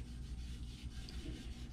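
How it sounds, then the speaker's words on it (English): Steel wool rubs lightly and quickly over a coated wooden staff that is being crafted in the Amazon tradition, making a continuous soft, close-up scrubbing hiss with small rhythmic swells and no speech. "I will wipe it down very quickly, very gently, with some steel wool again"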